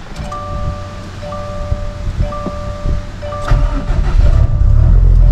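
A Subaru STI with a big turbo is cold started outdoors: a dinging door chime repeats steadily, then the engine catches and settles into a loud, rough, steady idle rumble.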